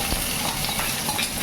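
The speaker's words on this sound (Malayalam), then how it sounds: "നേരത്തെ അരിഞ്ഞു വെച്ചിരുന്ന സവോളയും കൂടി ഓയിൽ ചൂടായതിനു ശേഷം ഇട്ടാൽ മതി" Chopped onions go into hot oil for a mutton curry and fry with a loud, steady sizzle and crackle, close up, with faint scrapes of a utensil and no voices.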